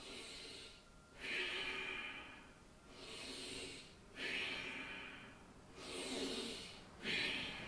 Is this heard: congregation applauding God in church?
no